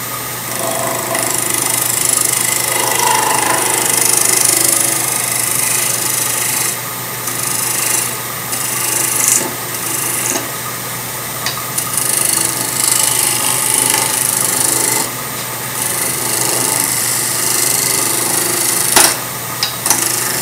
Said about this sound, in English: I'm gonna take a spear point scraper and just fine tune the outside of this.